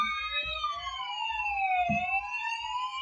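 A toy police car siren wails in steady sweeping electronic tones, with soft clicks and knocks of handling underneath.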